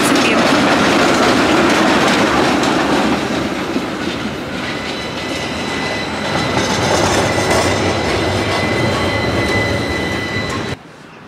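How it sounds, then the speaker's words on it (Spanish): An old tram rolls by on a street in Gothenburg, loud and close, with rumbling wheels, rail clatter and a high squeal, cutting off abruptly at the end. "Ahí son de los tranvías más viejitos"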